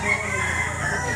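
A street comb yellow-leg gamecock crows at the Lipa Tiangge market in Batangas, one loud, close, drawn-out call over faint market background noise.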